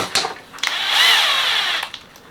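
A cordless power screwdriver, set to reverse, whirs loudly for about a second and a half after a couple of short bursts, close up with no talk.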